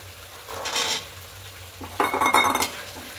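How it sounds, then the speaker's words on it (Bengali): Green peas being stir-fried in a pan for matar paneer, with spoon scrapes and clinks against the metal over a soft sizzle, loudest in a clattering burst near the end. "একটু ভালো করে কষিয়ে নেব।"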